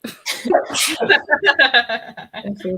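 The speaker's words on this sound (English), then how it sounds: "It was just a sneeze." A single sharp sneeze bursts out near and loud at the start, followed by a woman's chatter and soft vocal sounds.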